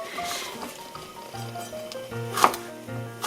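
A knife cuts Cheongyang chili peppers into pieces about 2 cm wide, and the cook wears gloves. Several close, crisp cutting taps land in uneven rhythm against a low background hum.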